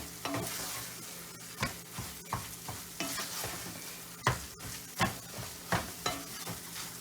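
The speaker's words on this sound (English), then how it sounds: "Keep stirring, keep stirring." A thick Jamaican grater cake mixture of grated coconut is stirred hard in a pot, repeated close scraping strokes in an uneven rhythm over a low sizzle, with no voices.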